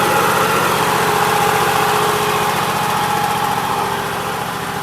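A Cub Cadet 1650 four-wheel-drive garden tractor engine idles with its governor set low, a loud, steady, close mechanical drone with a fast, even chug that holds unchanged throughout.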